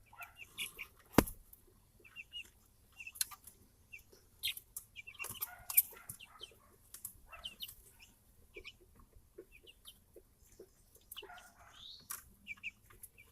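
Chickens cluck softly and intermittently nearby while drinking from nipple waterers on a bucket, with scattered pecking taps, a brief flutter and low background hum.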